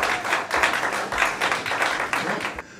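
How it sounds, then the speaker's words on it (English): Applause at a football club presentation night honouring a team that secured Blue Square South football for next season: a short burst of clapping from a gathered room, moderately loud, continuing steadily for a few seconds before cutting off. "big round of applause"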